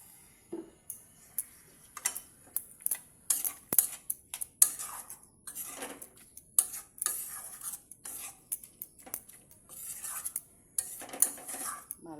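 A spoon stirs chopped banana flower in a pot with a little water, giving a run of sharp metallic scrapes and clinks in an irregular rhythm against quiet pauses.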